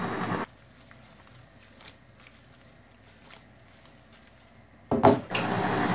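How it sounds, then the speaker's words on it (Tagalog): A pan of shrimp being flipped, with a loud metallic clatter and a splash of food at the start and again near the end, separated by a quiet stretch of faint scattered clinks. "I will show to you one of my talents, flipping the pan with the shrimp"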